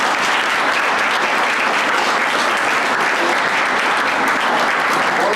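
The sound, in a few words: applause for conservation award recipients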